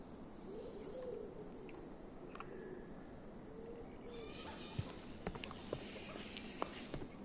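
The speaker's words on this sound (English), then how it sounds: "they make those owl noises sound too realistic" Owl hooting in the Tintin Reporter: Cigars of the Pharaoh video game, soft hoots repeating over a dense ambient bed, with a few sharp clicks near the end.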